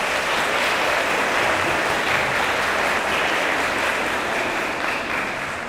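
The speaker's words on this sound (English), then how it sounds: "And so if we can give Ms. Pete a round of applause for her work." Sustained audience applause fills a graduation ceremony at Augusta Evans Special School, a dense, steady wash of clapping from many hands that holds for several seconds before tapering slightly at the end.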